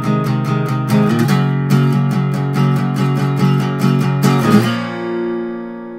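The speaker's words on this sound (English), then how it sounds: "That's how you're gonna play the intro." Acoustic guitar plays the intro of a song with quick down-up strums in a clear rhythm, loud and close, ending on a ringing chord that fades out.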